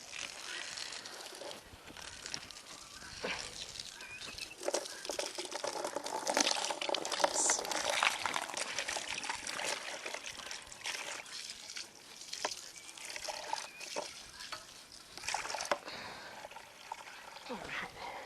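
Running water pours and splashes steadily into a goats' trough on a farm, with a rising gurgle as it fills; a voice talks faintly now and then.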